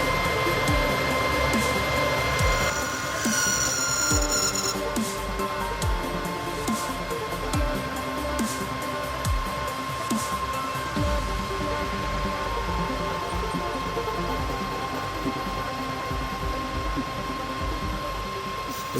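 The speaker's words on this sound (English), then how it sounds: "the next step was to use the boring bar and machine the sleeves up to" A lathe runs steadily with a boring bar machining drive shaft sleeves to size, a continuous mechanical whir with a sustained tone and rattling, ratchet-like cutting texture throughout.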